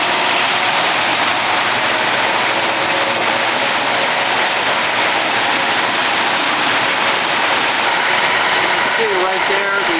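A just-started Ford 302/351W V8 idles as a loud, steady, unbroken drone that fills the whole stretch with dense rushing engine noise and no clear breaks.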